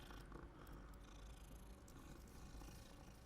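Cat purring in the video game Hogwarts Legacy, a steady low rumbling purr running continuously and close for the whole stretch, with no talk over it.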